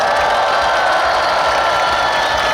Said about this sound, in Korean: 우리 경찰분들께 격려의 박수를 드리겠습니다